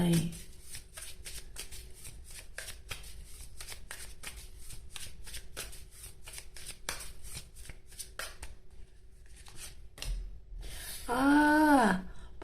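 Tarot cards shuffled by hand in a steady run of quick riffling bursts, fairly close and moderately loud, with a short pause before a brief sliding sound at the end.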